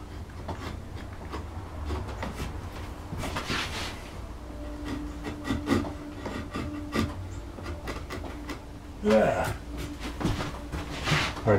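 A chisel held bevel down scrapes and pares at a carved wooden floral panel in a run of short, dry cuts and rubbing strokes, close and moderately loud, with a few sharper knocks along the way.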